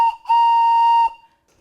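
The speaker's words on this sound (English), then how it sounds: "And now we have a whistle." A handmade wooden whistle gives one clear, steady high tone lasting under a second after a brief short toot, then stops into silence.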